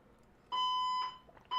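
A building fire alarm triggered by construction work blares a loud, sustained electronic tone, then falls silent briefly before another tone begins, close and harsh.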